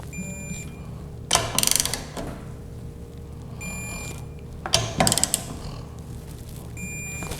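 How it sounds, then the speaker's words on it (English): Ratchet wrench torquing bolts down on a Honda transmission during a rebuild, heard as two short bursts of rapid clicking separated by a steady workshop hum and faint metallic handling noises. "we're going to want to torque these down as well to 13 Newton meters"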